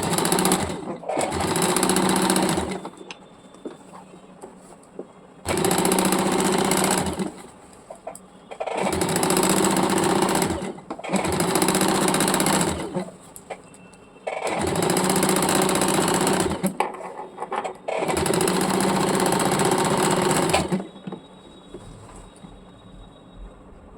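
Electric sewing machine stitching a petticoat in bursts of steady, rapid whirring, five or six runs of a few seconds each separated by short pauses, close and loud, with quiet voice-over speech between runs.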